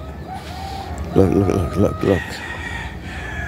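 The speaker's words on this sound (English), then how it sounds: "Do you see the chicken up there?" A chicken up in the trees among mango and palm trees in Puerto Rico clucks several times in a quick, loud series, with outdoor ambience and someone speaking briefly.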